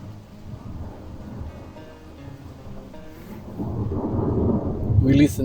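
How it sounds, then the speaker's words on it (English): Distant thunder from lightning rumbles low and muffled, slowly swelling louder toward the end, with no voices over it. "This is a distant lightning"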